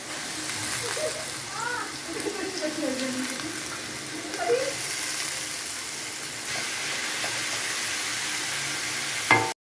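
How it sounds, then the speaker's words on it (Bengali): Potatoes fry in hot oil with chilli, giving a steady, even sizzle throughout. A voice talks briefly over it near the start, and the sound cuts off abruptly at the end. "লঙ্কা দিয়ে দিলাম তেলের মধ্যে, এবার আলুটা ভেজে নিচ্ছি"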